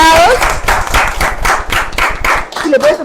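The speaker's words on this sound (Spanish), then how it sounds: "Fuerte las palmas, por favor, para los invitados." An audience applauds the guests at a public management event, a burst of clapping heard under someone speaking Spanish over a microphone.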